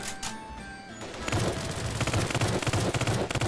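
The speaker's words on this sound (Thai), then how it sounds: "เริ่มมาผมใช้ปืนที่แบบเกมให้มาอยู่นะ" A gun in Roblox Squid Game fires a quick run of shots after a short quieter lead-in, then rattles on in fast, loud, rhythmic bursts.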